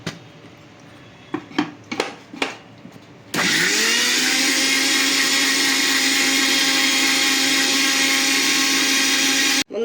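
Electric mixer grinder grinding garlic and ginger: a few clicks and knocks, then the motor starts and runs as a loud, steady high whine for several seconds before cutting off.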